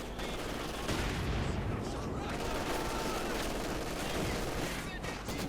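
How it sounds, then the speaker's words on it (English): Rifle and machine gun fire crackle through a Company of Heroes 2 battle, dense continuous bursts of small-arms shots with distant booms, loud and steady throughout. "rifle fire, MG fire"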